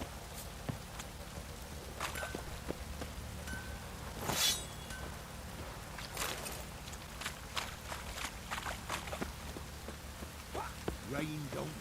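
Rain falls steadily in the open-world game The Witcher 3: Wild Hunt, a soft, constant patter with footsteps crunching over it and a few brief louder splashes.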